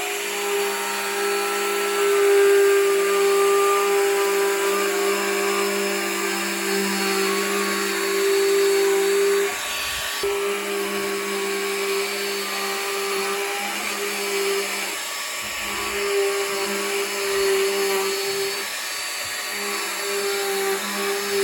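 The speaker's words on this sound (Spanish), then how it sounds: "Vamos a colocarle también ahora una fresita para intentar hacer aquí un canal y lo vemos." A high-pitched Bosch GKF 12V-8 cordless palm router whines steadily, with brief dips in pitch and load as it cuts a channel, continuous and close.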